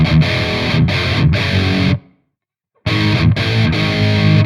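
Heavily distorted metal guitar through the Amplitube 4 amp simulator, played loud in chugging bursts with palm-muted gaps, stopping for nearly a second before resuming.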